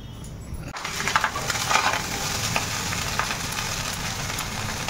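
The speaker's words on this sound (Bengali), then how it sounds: "ওই রাইসটা ফ্রাই করছে" Rice being fried and stirred in a pan gives a loud, steady sizzle, with scraping and stirring strokes that start abruptly and run without a break, and no voices.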